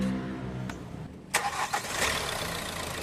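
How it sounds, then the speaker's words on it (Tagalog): A Hyundai Accent engine, reported slow and overheating, cranks briefly and catches, then settles into a steady, moderately loud idle. "pa-start ko na itong makina. Yeah, start!"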